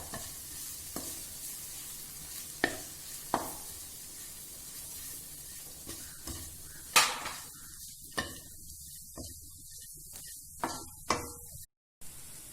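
Garlic, green chili and spices sauté in a pan with a steady sizzle, broken by several sharp clinks and scrapes of a spoon stirring against the metal. The cooking is close and quiet, and nobody speaks.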